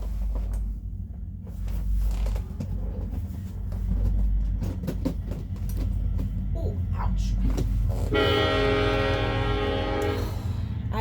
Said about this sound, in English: I really hate living by the train.